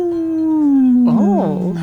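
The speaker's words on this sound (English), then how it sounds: "A little howl there." A single drawn-out dog howl, loud and close, sliding slowly downward in pitch before breaking into a wavering, yodeling warble at the end.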